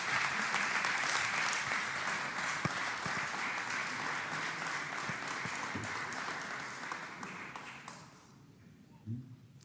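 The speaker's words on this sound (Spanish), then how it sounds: "un aplauso para Jorge" An audience at a tribute event claps for Jorge in sustained, even applause that lasts about eight seconds before fading out, leaving a faint, near-silent tail with a couple of small knocks.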